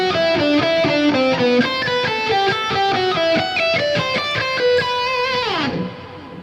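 Lead guitar plays a fast run of picked notes in a lead exercise, changing pitch continuously at a steady moderate loudness, then ends with a descending slide and fade, and nobody talks.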